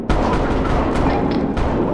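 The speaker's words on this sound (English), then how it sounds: "Gunshots! I hear gunshots!" Gunfire in the Tactical Assault VR shooter game: loud, dense, continuous booming bursts that fill the whole two seconds, close and heavy.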